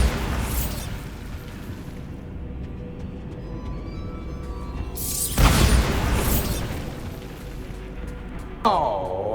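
Explosion from the Bombarda spell in a Harry Potter-style video game, a sudden loud booming burst that cuts through a low ambient rumble and then tails off, with another sharp impact near the end.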